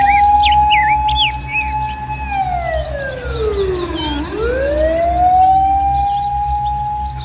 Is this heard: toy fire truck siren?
yes